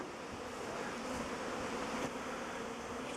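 Honeybees swarm around apiary hives after rain, a dense, steady buzzing hum that fills the air evenly throughout, with no voices.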